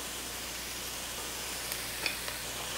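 Onions and minced garlic saute in a pan for turkey chili, giving a steady close sizzle with a few faint stirring clicks.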